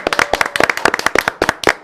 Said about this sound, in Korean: 박수 소리 오늘 크네요.